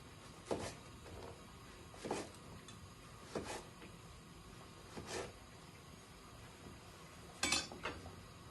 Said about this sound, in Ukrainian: кубики нарізаємо на пластини